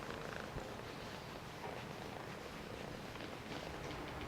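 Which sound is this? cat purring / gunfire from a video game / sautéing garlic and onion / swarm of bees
cat purring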